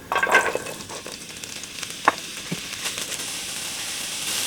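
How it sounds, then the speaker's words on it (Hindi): Sliced carrots sautéing in about a tablespoon of oil in a kadhai, a steady moderate sizzle with a couple of sharp clinks of a utensil against the pan. "कढ़ाई में तेल डालेंगे। तकरीबन 1 टेबलस्पून हमने इनको सौते करना है।"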